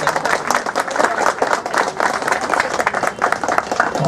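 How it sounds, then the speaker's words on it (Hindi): A crowd gives a team of journalists loud, sustained applause, dense rapid clapping filling the whole stretch, with faint voices beneath. "मैं चाहूँगा हमारे पत्रकार भाइयों की टीम के लिए एक बार जोरदार ताली हो जाए।"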